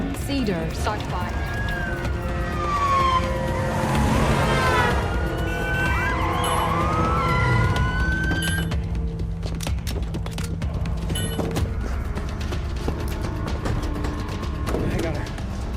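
A wailing emergency siren with rising and falling sweeps in the video game Wizard Tower, layered over traffic noise and other game sounds while a voice talks over it.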